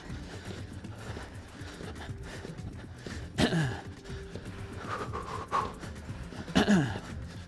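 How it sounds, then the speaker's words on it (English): Heavy, breathy panting from someone doing a high-knees cardio workout, steady and fairly quiet, with a few sharper gasping breaths toward the end. "already breathing hard"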